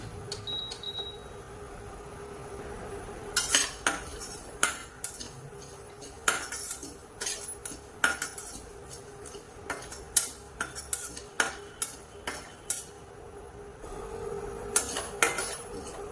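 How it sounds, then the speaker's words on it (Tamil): A metal spoon clinks and scrapes against a pan while cumin is dry-roasted for a small-onion thokku, with irregular sharp taps coming in bursts over a quiet background. "இதை நல்லா வறுத்துக்கணும். நல்லா வாசனை வர அளவுக்கு வறுத்துக்கணும்."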